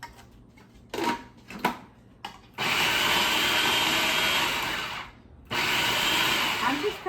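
A Cuisinart food processor chops coleslaw ingredients in short pulses, then in two longer whirring runs with a pause between, the motor loud and close.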